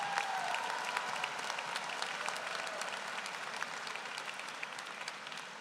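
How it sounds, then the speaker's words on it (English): An audience claps steadily at a university medical school commencement ceremony, producing a dense, continuous applause that stays loud and even throughout and fades only slightly toward the end. "One more round of applause."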